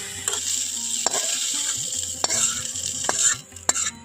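Fried okra and potatoes are scooped from a hot pan into a bowl, with a continuous sizzle underneath and several sharp scraping and clinking strokes of a spoon against metal.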